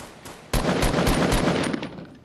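Automatic gunfire in the video game Fortnite, played on console, bursts in loud and dense after a quiet half-second lead-in, then rattles on continuously with a slight fade at the end.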